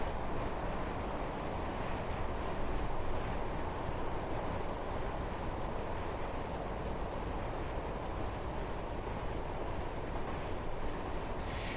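A Class 158 diesel train running between Nottingham and Derby gives a steady, loud rumbling roar with broadband rush and wind-like noise, constant with no break and no talking.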